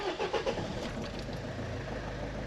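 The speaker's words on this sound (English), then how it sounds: "So when I actually turn it on, I'll turn the ignition." Car engine started with the ignition, turning over and settling into a steady low idle rumble, close and moderately quiet with no talk.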